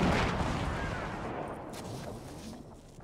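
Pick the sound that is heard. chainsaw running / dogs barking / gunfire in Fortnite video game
gunfire in Fortnite video game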